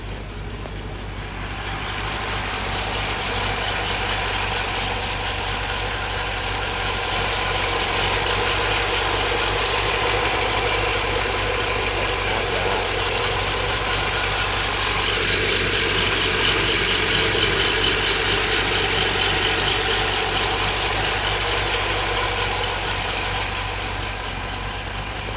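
A 1960s C2 Corvette with a 327 V8 rated at 65 horsepower, manual fan and no power steering, idling steadily in snow, a loud, even engine rumble running the whole time with no talk.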